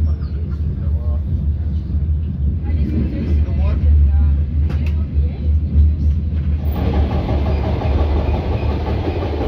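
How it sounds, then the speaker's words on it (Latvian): A diesel passenger train on the Riga–Valmiera/Valga line near Cēsis: a heavy low engine drone and rumble heard from inside, steady and loud, with faint clatter and some background voices. "Cēsu stacijā pietur dīzeļvilcieni, kas kursē maršrutos Rīga-Valmiera un Rīga-Valga."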